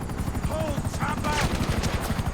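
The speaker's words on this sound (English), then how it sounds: "I can already tell those helicopters is gonna be annoying." In Grand Theft Auto Online a helicopter's steady, rapid rotor chop thumps throughout, loud and continuous, with faint game sounds layered over it.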